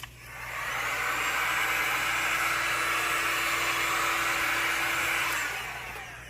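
A hot air blower runs steadily for about five seconds, heating a mask frame up close with a loud, even rushing whoosh that starts and stops cleanly.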